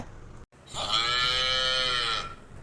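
A cow in a Tamil cartoon comedy gives a single long, loud moo after a short pause, with no talk over it.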